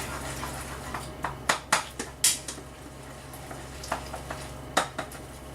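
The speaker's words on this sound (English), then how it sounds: "I like to add just a little butter. And a little oil. I'm going to give that a nice stir." A spoon stirs butter and oil in a pan, with a series of sharp metallic clinks and scrapes against the pan over a faint low sizzle, close and intermittent.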